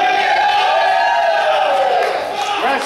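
A live independent wrestling crowd cheers and yells loudly and continuously at a Grayson Beckett vs Heinzman match, a dense wall of voices with rising shouts and whoops that swells and then eases slightly near the end.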